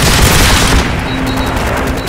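M60 machine gun fire in Call of Duty 4, a dense, loud, continuous roar of rapid shots with booming low end, heard alone without speech.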